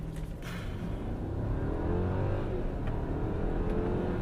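A 2015 Mercedes S550 4MATIC in sport mode launched at full throttle on a wet road, its engine note rising steadily as the car pulls hard, heard from inside the cabin without talk.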